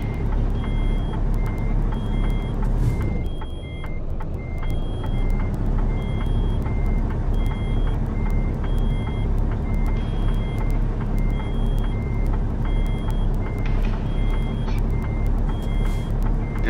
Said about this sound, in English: That's the little beeping sound you hear. That's the air pressure.